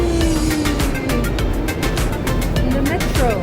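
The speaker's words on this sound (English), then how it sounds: "Okay guys, so we're in the subway." A loud subway metro station on a first metro ride, with steady rumbling rail and crowd noise, a faint screech, and speech mixed in throughout.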